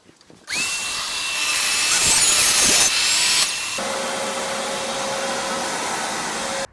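Table saw rips a wood blank to give it a clean edge: a loud motor whine starts, the blade bites steadily through the board for a few seconds, then the cut ends and the motor keeps spinning.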